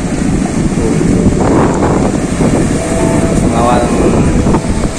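Fishing boats setting out to sea through fairly big waves at Pamayang beach, heard as a continuous roar of surf and wind buffeting the microphone, with faint voices and a low motor hum mixed in.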